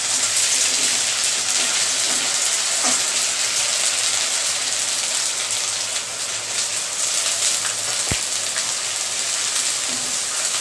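Onions browned in a pan with ginger and garlic just added, giving a steady crackling sizzle that runs throughout with small pops scattered over it and no voices.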